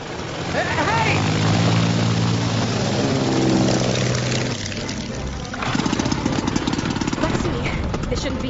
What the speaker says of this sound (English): We'll get to the jump jet.